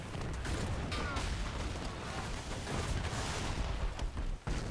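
Dense gunfire crackles in a World War II battle between French and German troops during the 1940 invasion of France in Men of War, a continuous rattling of shots and distant booms, fairly quiet and muffled.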